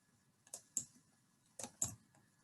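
Faint computer mouse clicks sound in two quick pairs, light sharp ticks close to the microphone against a quiet room hum.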